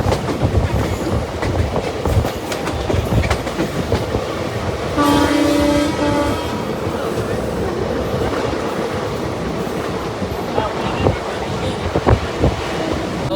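A passenger train on the Hosapete to Pune run, recorded from a crowded general-class coach, rumbles and clatters steadily with heavy wind buffeting, and a loud horn blast sounds for about a second midway.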